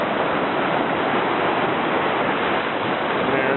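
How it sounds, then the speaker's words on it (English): A small mountain river, the Santa Barbara in the Pecos Wilderness, rushes steadily in a broad, unbroken wash of flowing water, loud and close as if right at the crossing, with no voices. "this is the beautiful little Santa Barbara River"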